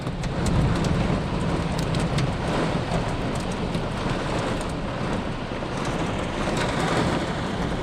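Hail and dense, steady rain drumming hard on a car roof during a summer storm, with scattered sharper ticks and rattles mixed into the constant roar.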